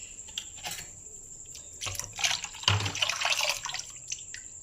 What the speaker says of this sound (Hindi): दूध और डालेंगे इसमें।